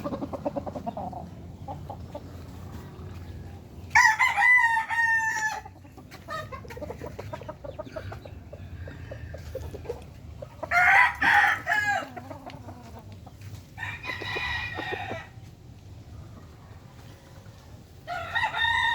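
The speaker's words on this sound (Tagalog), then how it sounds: "Ini ako mga manok." Backyard roosters crow several times at close range, loud bursts separated by pauses, with softer clucking and farmyard noise in between.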